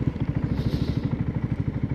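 A motorcycle idles nearby in a mosque parking area, its engine thumping in a quick, even, pulsing rhythm for a couple of seconds.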